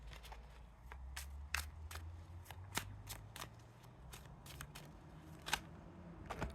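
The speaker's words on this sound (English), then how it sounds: "I'm gonna give one more shuffle and see what comes out." Tarot cards are shuffled by hand up close, sounding as soft papery riffles and sharp snapping card flicks spread irregularly over a low background hum, with no talking.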